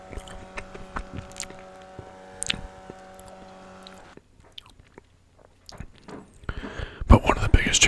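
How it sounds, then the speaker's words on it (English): Crisp bites and crunchy chewing on a piece of crispy-crust pizza, close to the microphone in a quiet room, with soft mouth sounds and a louder crunching burst toward the end. "Let's grab another piece of pizza here. Something with a nice piece of crispy crust."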